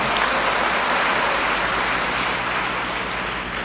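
Dense, steady applause from a large audience at a university graduation ceremony for Universitas Amikom Yogyakarta's 70th commencement, a continuous hiss of many hands clapping with no voices over it.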